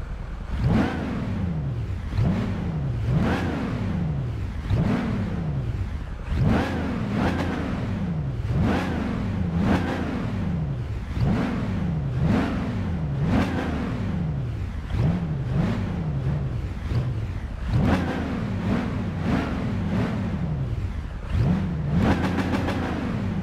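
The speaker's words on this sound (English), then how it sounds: "I put each car on the track and revved the engine up to see which one sounded better. So first up is the Dodge Challenger." Repeated rev blips from a Dodge Challenger muscle car engine in Gran Turismo 5, about a dozen loud sweeping rises and falls in steady rhythm, with no talk over them.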